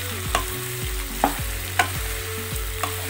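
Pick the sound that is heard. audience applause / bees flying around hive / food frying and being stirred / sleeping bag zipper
food frying and being stirred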